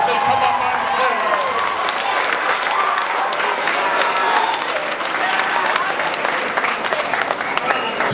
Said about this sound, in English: give them a big round of applause as they come up on stage